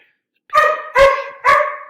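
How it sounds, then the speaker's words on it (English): A dog barks three times in a steady rhythm, loud and close, with clear resonant yelps and brief silence between them. "People right now are getting mad because they hear the dog."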